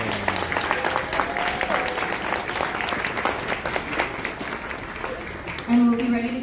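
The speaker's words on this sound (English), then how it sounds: "how about one more round of applause for our band and orchestra?" Audience applause for the band and orchestra at an elementary school winter concert, steady close clapping through the whole stretch with a few instrument notes sounding near the end.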